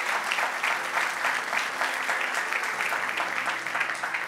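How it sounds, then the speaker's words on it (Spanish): Church congregation applauding during a sermon, a steady, even roar of many hands clapping at moderate distance that continues for over four seconds without talk. "Dele un aplauso bien fuerte a nuestro Dios."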